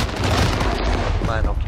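Gunfire in a video game shooting at the player, a dense, loud stretch of overlapping shots and booms with voices talking over it.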